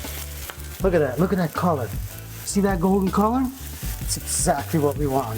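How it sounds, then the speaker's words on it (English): Mushrooms sear in a hot pan with a constant crackling sizzle under a woman's speech, which continues throughout. "I want a nice sear on my mushrooms."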